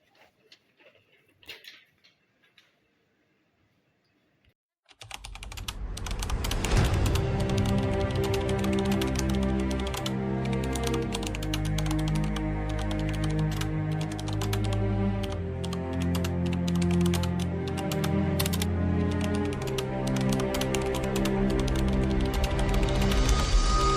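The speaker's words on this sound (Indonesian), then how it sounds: "Baik Bung, akan saya ketikkan semua." Keyboard typing starts after a near-silent opening and carries on continuously and fairly loud, with dense rapid keystrokes over a steady tonal background.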